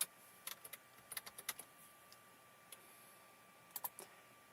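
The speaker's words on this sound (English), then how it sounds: "So let's type" Quiet, close keystrokes on a computer keyboard come in a short burst of quick taps, then a lone tap and a final small cluster, with no talk.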